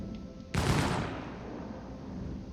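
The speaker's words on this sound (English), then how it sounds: "that's the guns size 4s" Size 4 ship guns on an Origin 400i in Star Citizen let go in one heavy burst, a sudden loud blast that rings out and then decays into a low rumble over the rest of the moment.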